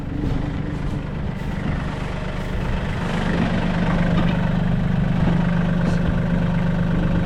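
A tractor engine runs steadily throughout, a deep rumbling idle that stays loud and even with no voices.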